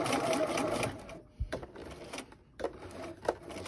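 Sewing machine stitching a fabric face mask, whirring in steady bursts with brief pauses and short clicks between runs, close and fairly quiet.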